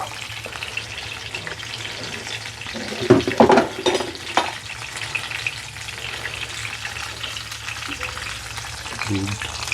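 Bitter melon frying in very hot olive oil, a steady hiss and crackle running throughout with a louder burst of sizzling and a few clinks near the middle, close by, with no talk.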